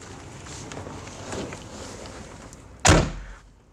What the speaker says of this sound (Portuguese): E quando a gente fecha a porta